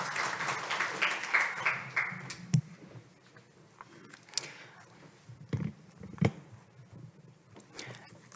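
Audience applause at a Korean government briefing on international greenhouse gas reduction projects, a short burst of clapping from a seated crowd that swells in the first two seconds and then thins into scattered claps and room noise.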